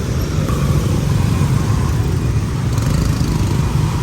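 Dense Saigon street traffic with many motorcycles, a loud continuous roar of engines passing close by, steady throughout with no voices.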